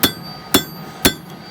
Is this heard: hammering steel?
yes